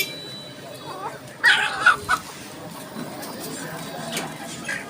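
A few quick clucks from local (desi) chickens at a busy chicken market in Bangladesh, bunched in a short burst near the middle, with faint crowd noise around them.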